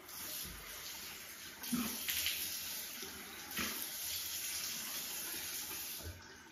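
Tap water runs steadily into a sink during a skincare face wash, a continuous hiss with a few louder splashes, close by with no talking.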